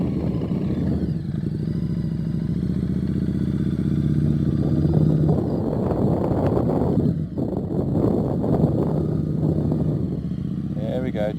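Engine of a Mitsubishi car during a driving lesson holds a steady, raised rev for several seconds, rising and dipping slightly with road and wind noise while an instructor talks over it.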